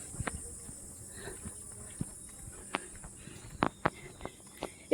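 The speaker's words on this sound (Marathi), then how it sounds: "बघा रातकिडे ओरडतात" Crickets trill in a steady high-pitched drone throughout, with scattered footsteps and small rustles crunching over it, at Govardhan Eco Village, Palghar.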